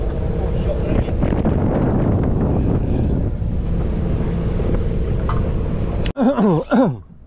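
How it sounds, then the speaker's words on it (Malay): Strong wind buffeting the microphone aboard a fishing boat out at sea, a continuous roar mixed with water and someone talking, ending in a brief abrupt cut and short tonal sounds. "Ni sekarang dah ada angin ni, angin dah turun ni."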